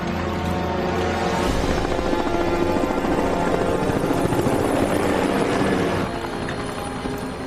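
A helicopter in a science fiction film drones steadily with a loud, continuous rotor roar close by, easing slightly toward the end, with no voices over it.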